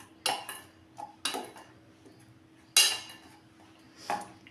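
Spice paste with green chillies and mustard oil being mixed in a bowl for shim bhapa, heard as a few sharp utensil scrapes and clinks against the bowl spaced out over quiet background.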